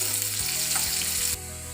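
Curry leaves hit hot coconut oil for a hog plum pickle, bursting into a loud close sizzle that settles into steady frying.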